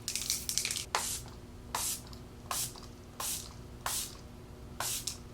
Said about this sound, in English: This is an illuminating setting spray